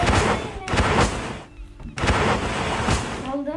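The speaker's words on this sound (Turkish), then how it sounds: "sıkıyorum şu an bazı yerlere. Merminin bitene kadar sıkıyorum." Gunfire in a Call of Duty hide-and-seek match: loud, rapid bursts of shots in two long volleys separated by a brief pause.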